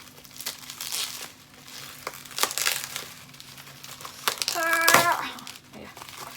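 A package of books being unboxed: crinkly plastic and paper crumpling and tearing in bursts, close and fairly loud, building to a sharp rip near the end, with a faint voice in the background.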